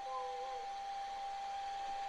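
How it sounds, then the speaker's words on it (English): A blow dryer hums in a steady, continuous whir while a puppy is groomed at the vet, with a faint tonal whine running under a quiet room. "So he does like the blow dryer blowing on him as Keela's grooming him a little bit."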